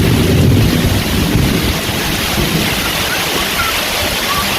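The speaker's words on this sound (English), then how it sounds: "That's a huge lightning just now." A tropical thunderstorm on an island beach, with heavy rain and rumbling thunder. A dense, loud roar swells in the first second, then settles into a steady wash mixed with wind buffeting.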